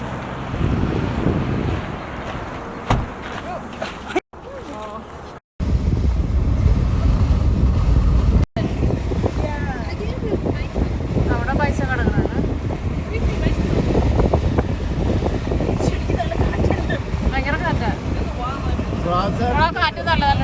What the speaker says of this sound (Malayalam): കാറ്റ് നല്ലതല്ല അത്ര തൊണ്ട വേണ്ടി ഭയങ്കര തണുത്ത കാറ്റ്